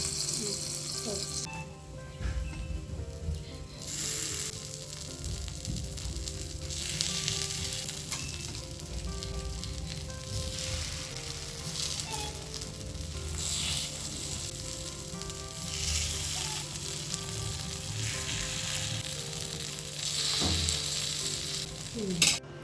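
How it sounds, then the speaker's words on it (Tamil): Paniyaram batter fries in a pan alongside a coconut chutney tempering, giving a steady close sizzle with occasional stirring and utensil sounds across the whole stretch, while someone talks over it at times. "பிரேக்ஃபாஸ்ட்டுக்கு பணியாரத்தை ஊற்றியாச்சு. இங்கிட்டு தேங்காய் சட்னியை வந்து தாளித்து விட்டாச்சு."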